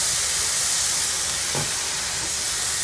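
Ground beef hamburger patty frying in a pan, a steady loud broad hiss and sizzle filling the whole clip with a brief faint pop near the middle.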